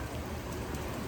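Steady rain falling outdoors in Okinawa during a bike ride, a dense, even hiss of drops on surfaces with no voices present.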